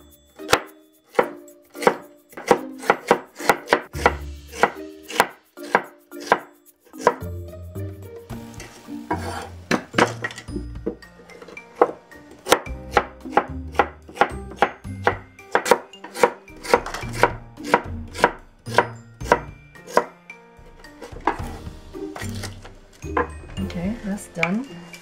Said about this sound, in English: So I'm going to cut it in half, lengthwise, and cut it into like 1/4 inch slices.